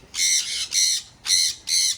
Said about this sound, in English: Yeah, them are mini parrots.